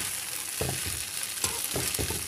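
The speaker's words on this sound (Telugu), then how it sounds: "కొంచెం ఇలాగే ఫ్రై చేసేసి తీసేయటమే ఫ్రెండ్స్" Egg fried rice sizzling in a pan, a constant hiss of frying broken by several short scraping stirs of a spatula.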